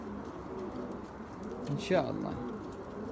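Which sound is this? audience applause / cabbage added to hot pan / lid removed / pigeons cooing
pigeons cooing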